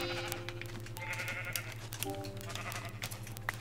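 Sheep in the Minecraft video game bleat repeatedly as short, buzzy calls over a steady background hum and game sounds, fairly close and moderate in level.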